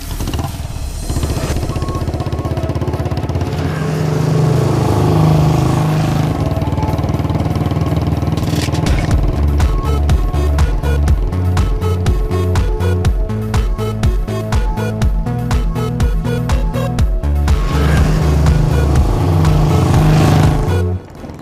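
A motorcycle engine runs loud and close, moving from a steady drone into rhythmic pulsing revs and chugging, then easing back near the end.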